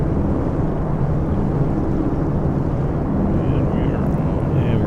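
Twin radial engines of a Douglas DC-3 in the X-Plane 11 flight simulator, throttled back during a climb, drone as a steady, loud, broadband roar that stays even throughout with no voices over it.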